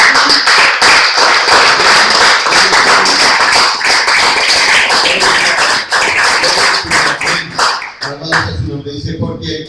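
Loud, rapid clapping from a church congregation applauding the Lord during a Christmas sermon, sharp and rhythmic, thinning out and mixing with voices near the end.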